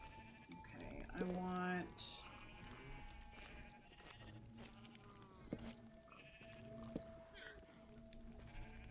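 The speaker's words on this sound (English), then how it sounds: "lead 2 of the sheep." Sheep in a Minecraft farm give several short bleats, one loud and close near the start and fainter ones later, among soft game clicks and footsteps while someone talks.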